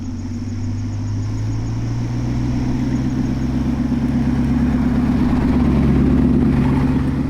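A Bugatti Chiron Super Sport idles in a driveway, its engine giving a steady, loud low rumble that holds evenly and swells slightly toward the end, with no talking over it.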